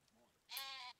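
An adult male sheep in the video game Dawn of Man gives one loud, drawn-out bleat lasting about half a second, with no talk over it.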